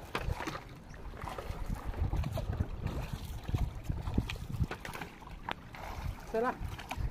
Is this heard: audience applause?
no